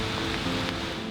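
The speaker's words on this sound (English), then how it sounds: "It's raining" Steady rain falls in a snail garden in the middle of Vienna, a dense, even patter of drops on surfaces with a faint brighter tap near the end, no voices.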